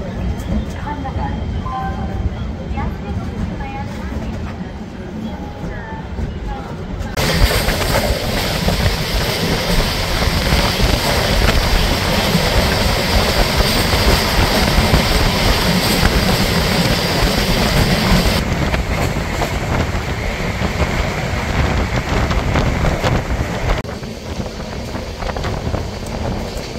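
The 13147 Uttarbanga Express runs along its rails with a loud, constant roar mixed with wind buffeting. The rumble swells sharply after several seconds and holds steady, and voices can be heard beneath it.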